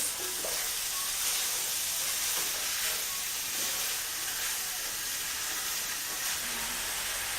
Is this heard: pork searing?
yes